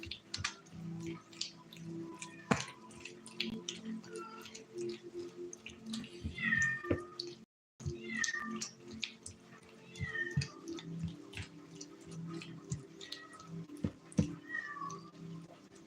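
A pet cat meows repeatedly in short calls, together with scattered keyboard typing and clicking in a quiet indoor room.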